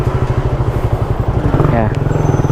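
A Suzuki Raider 150 motorcycle engine drones loud and close while riding, with rapid pulsing exhaust throb and a brief rise in pitch, under wind noise; a voice talks briefly.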